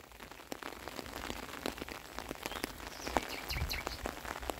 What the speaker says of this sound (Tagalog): Nakakatakot, ang lakas pa ng ulan.